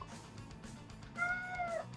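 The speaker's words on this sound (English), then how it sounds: "The cat is very interested in what's going on." A cat nearby gives one drawn-out meow, fairly clear over a low indoor background hum.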